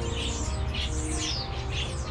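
Birds chirping at Butterfly World, a busy chorus of quick repeated tweets close by, fairly loud over a soft background hum.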